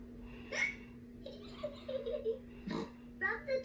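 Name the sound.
child hiccuping in Peppa Pig cartoon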